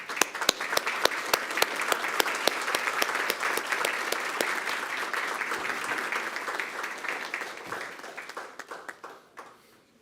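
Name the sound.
round of applause at a board meeting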